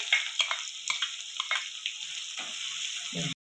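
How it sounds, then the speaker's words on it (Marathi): Chopped onion and garlic fry in a pan with a soft sizzle under a run of sharp spoon scrapes and taps against the metal, ending abruptly. "कांद्याचा रंग बदलेपर्यंत त्याला आपण परतून घेऊ"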